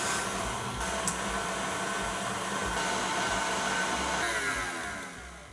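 Stand mixer whipping dairy-free vanilla buttercream on high in a metal bowl, a steady close whirring drone that holds level and alone throughout.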